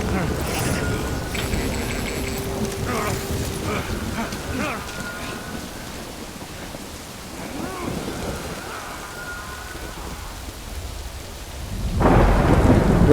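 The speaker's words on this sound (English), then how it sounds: "Oh, and now the rain." Rain and thunder in the video game Death Stranding: a broad wash of rainfall with low rumbling, other game sounds mixed in, and the downpour swelling louder near the end.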